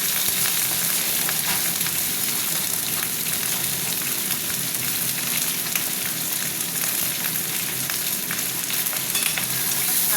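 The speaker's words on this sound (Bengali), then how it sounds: "বেগুন আলুর সাথে আমি ভাজবো" Eggplant and potato pieces frying together in hot oil, a loud, dense, continuous sizzle that holds steady without a break, heard alone.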